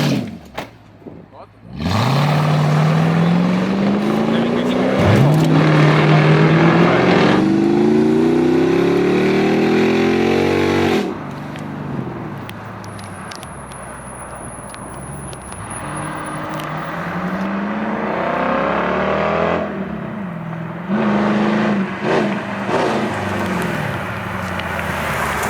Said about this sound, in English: You heard the poppy noise and stuff on the Chrokee.